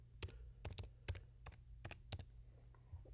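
A password is typed on a computer keyboard in about nine close, crisp key clicks, irregular in rhythm over three seconds, with a low hum underneath.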